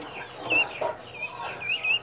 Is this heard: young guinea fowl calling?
yes